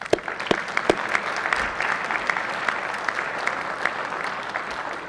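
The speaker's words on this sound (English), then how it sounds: "Let's give them a round of applause." A round of applause fills the Senate chamber for a family seated in the gallery, an even, sustained clatter of many hands with a few sharper claps up front.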